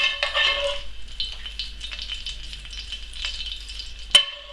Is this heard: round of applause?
no